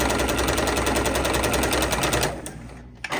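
Sewing machine running a steady, rapid stitch along a diagonal seam in fabric, loud and close with a fast regular rhythm, then slowing and stopping near the end.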